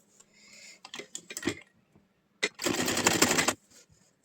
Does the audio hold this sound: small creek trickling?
no